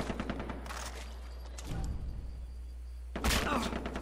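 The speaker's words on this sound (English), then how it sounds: "I'm getting shot at!" Gunfire in the video game Far Cry 3: bursts of shots over a steady low game rumble, with a louder, closer burst near the end.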